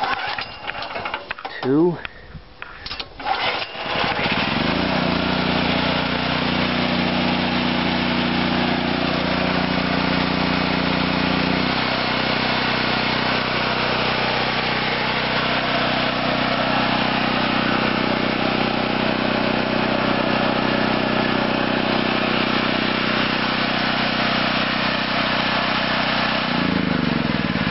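An All Power America 6000 watt propane generator is pull-started, then settles into a loud, steady engine drone close by, with a brief spoken count before it catches.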